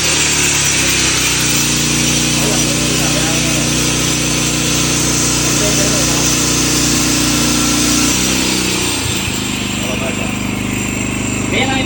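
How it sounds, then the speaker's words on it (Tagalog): A Philking portable inverter generator runs loudly and steadily close by, its engine drone holding a constant tone with a brief dip and shift near the end. "yung ingay ng generator, di ba?"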